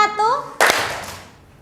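A teacher's voice speaks briefly, then a group of pupils in a classroom clapping game give a single sharp, near clap together that rings out and fades.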